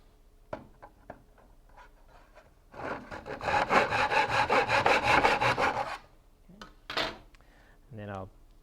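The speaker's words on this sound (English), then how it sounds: "So I'm just going to use my miter box here." Hand saw cutting through taped-together wooden tree core samples held in a miter box, a steady run of rhythmic back-and-forth rasping strokes lasting a few seconds, close and fairly loud, with scattered handling knocks before and after.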